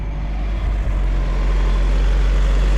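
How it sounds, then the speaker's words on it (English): A Saab 9-5 Aero engine idles a bit fast with a split intake pipe, a steady low hum and rumble heard close by, continuous and even. "Idling a bit fast, it's got a split in the intake pipe"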